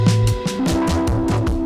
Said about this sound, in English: In my language, that means that this is an extra distortion slider.